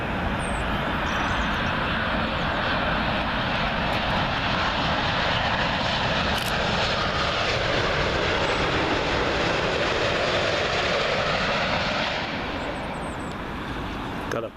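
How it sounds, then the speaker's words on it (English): American Airlines Boeing 787-9 Dreamliner arriving at Heathrow from Philadelphia, a loud, steady engine roar with a whining tone that sweeps down as the jet passes close by, then eases off near the end. "Comes another American Airlines, this time a 787-9 Dreamliner, coming in from Philadelphia"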